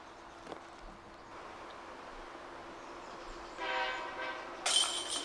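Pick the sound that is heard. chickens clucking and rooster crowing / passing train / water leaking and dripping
passing train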